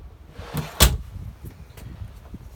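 A lockable storage drawer aboard a 2020 Grady-White Freedom 275 twin-engine boat shuts with one sharp, close clunk, set among a few faint rattles and soft handling noises.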